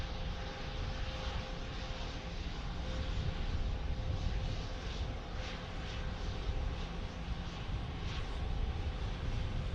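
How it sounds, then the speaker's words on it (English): A Bombardier Global Express business jet at Dallas Love Field, heard as a steady, fairly faint engine rumble and whine from a distance that holds evenly throughout. "And then we've got a big old Bombardier Global Express."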